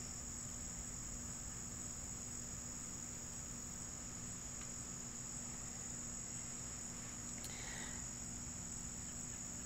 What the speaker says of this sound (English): we have sounds of a summer evening. So, crickets, a few birds here and there,